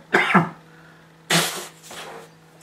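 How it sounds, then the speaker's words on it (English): Someone blows their nose close to the microphone in a few short, forceful bursts separated by pauses. "Blow my nose."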